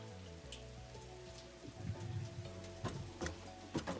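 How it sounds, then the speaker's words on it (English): Rain falls in the factory-building game Satisfactory, a soft steady patter with occasional sharper drips and taps over a quiet background hum. "It's raining."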